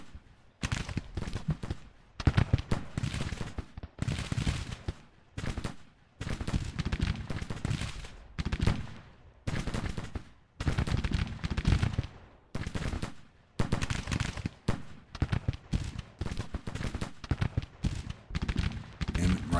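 Massed rifle and cannon fire from Civil War soldiers in the strategy game Grand Tactician: The Civil War, crackling in dense continuous volleys with brief gaps, loud and sustained throughout.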